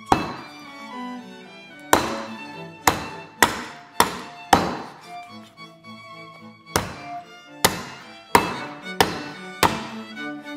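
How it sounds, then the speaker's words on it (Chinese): Cleaver chopping an old rooster into small pieces on a board, about a dozen loud, sharp thunks spaced unevenly, sometimes in quick pairs, with no talking. "然后我们现在把这个大块给它斩成小块"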